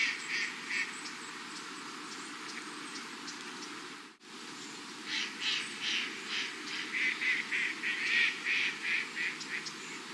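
Mandarin ducks call on water in soft, rapid bursts of quacking notes, a cluster of calls, then a short pause, then a longer and livelier series, all fairly faint over a quiet outdoor background.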